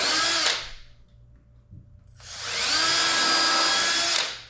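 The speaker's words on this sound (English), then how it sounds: "So I'm going to drill a pilot hole," Power drill boring pilot holes into a wooden board for rolling saw-horses: a short burst of whirring, a brief pause, then a longer steady drilling run, close and loud with no talk.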